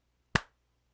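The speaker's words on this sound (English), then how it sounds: "Just say the word yes in chat when you can hear my clapping." A single sharp hand clap rings out once, close and clear, then quiet.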